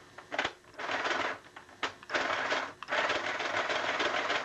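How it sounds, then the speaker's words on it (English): A small Singer travel sewing machine runs in short bursts, its needle mechanism whirring and clattering rapidly, stopping and restarting several times, close and moderately quiet. "this is the travel singer. See, this actually does what it's supposed to do."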